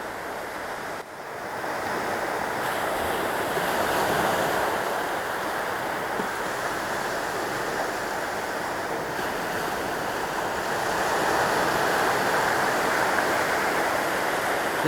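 Waves break on a beach in the Morondava River estuary on the Mozambique Channel, Madagascar, making a steady, close, rushing roar of surf with some wind buffeting and no voices.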